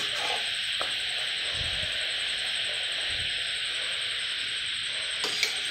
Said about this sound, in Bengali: শেষের কটা লুচি আছে, ভাজছি।